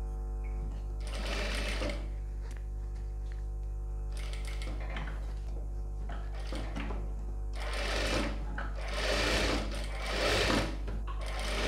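Sewing machine stitching around a silk pattu pavadai sleeve, a steady mechanical whir in several bursts with short pauses between runs, close and clear over a constant low hum.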